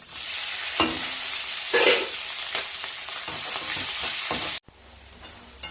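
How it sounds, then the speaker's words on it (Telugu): Onions and green chilies hit hot oil with a loud, steady sizzle and occasional stirring scrapes, then the frying drops abruptly quieter near the end. "ఉల్లిపాయ పచ్చిమిరపకాయలు కట్ చేసుకున్నాం అది వేసేసుకుందాం"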